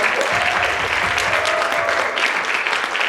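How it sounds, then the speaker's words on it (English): An audience at an outdoor AAPI Heritage Month festival in South Jersey gives a sustained round of applause for the afternoon's performers, a broad steady wash of clapping with faint crowd noise. "can we give one more round of applause for all of our amazing performances this afternoon?"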